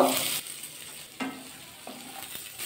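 Vegetables sizzle in hot oil in a pan for a drumstick (sojne data) dish, a steady close hiss broken by a few sharp clinks and scrapes as a spoon stirs them.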